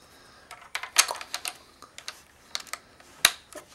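Toy plastic building bricks snapped together while building a toy guitar: a close, irregular run of crisp clicks and clatters, a few sharper snaps standing out among lighter rattling taps.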